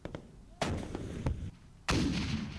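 Gunfire during a live-fire military field exercise, three heavy booming shots that crack in sharply and leave long rumbling decay, loud and fairly close, with no talk over them.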